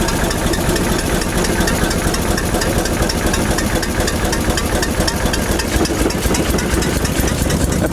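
An old race car engine runs steadily at close range, its loud, dense rumble and rapid mechanical clatter holding constant while someone works the throttle.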